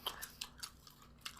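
Fries are chewed close up at a quiet table, a series of about six soft, crunchy bites and chews spaced irregularly over a second and a half.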